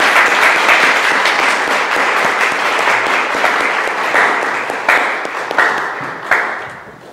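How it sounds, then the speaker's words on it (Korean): A church congregation claps in welcome for a visitor at a Sunday worship service, a dense, steady round of applause that rises briefly before tapering off near the end. "박수로 환영해 주시기 바랍니다."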